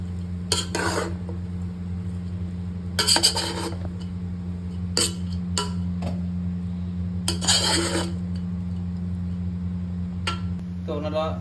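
A spoon scrapes and stirs rice with vegetables, spices, ghee, sugar and salt in a pan for fried rice, in short repeated bursts of clinking and rubbing over a steady low kitchen hum.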